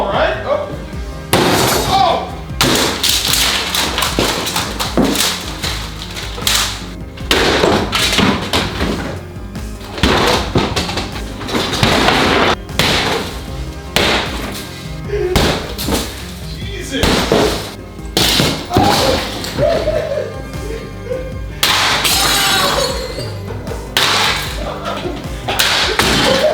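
Glass blocks smashed during a house demolition, a loud, continuous run of heavy crashes, thuds and shattering impacts close by, with voices calling out over the din.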